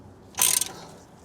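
A socket ratchet clicks in a short burst of three or four quick pawl clicks while tightening a Bilstein B6 front strut bolt on a VW Crafter van with a 21 mm socket, close and alone.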